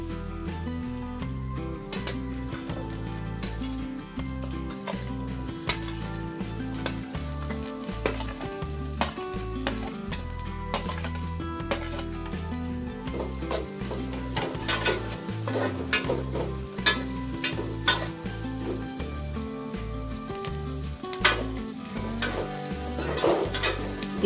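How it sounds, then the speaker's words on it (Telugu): Capsicum and onion fry with a steady sizzle in a pan for pasta, while a spoon stirs them with repeated scraping and clinks. The sound stays close and constant, with no voices. "తర్వాత క్యాప్సికమ్, ఉల్లిపాయ ఇవన్నీ వేసుకొని బాగా ఫ్రై చేసుకుందామండి."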